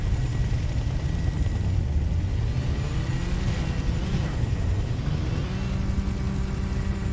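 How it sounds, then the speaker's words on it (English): Helicopter from the video game Gotham Knights, a steady low rotor-and-engine rumble that drones throughout, moderately loud, with a faint rising whine in the middle and no talking. "Well, the helicopter's after me."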